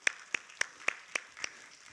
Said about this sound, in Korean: 프레이즈를 위해서 박수.